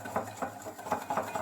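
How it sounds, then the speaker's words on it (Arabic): Stirring a pan while warm crème fraîche is gradually added for a mirror-glazed strawberry cake: light rhythmic scraping and clinking of a utensil against the pan, about six soft strokes, close and quiet with no talking. "وانا كنزيد في لا كريم فريش وانا كنحرك"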